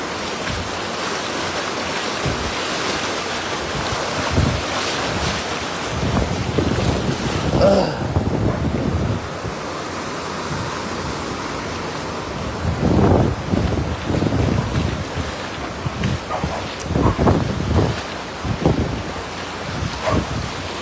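Heavy rushing floodwater at Tubod Bridge in Mahayahay, a loud continuous roar with gusting wind buffeting the microphone and occasional faint voices underneath.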